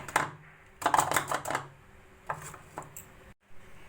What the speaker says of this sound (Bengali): যে দানা দানা অংশগুলো আছে এগুলো এভাবে চামচের সাহায্যে মিশিয়ে দিলে মিশে যাচ্ছে